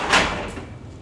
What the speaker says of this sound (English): so that I can walk over to the door, get my door open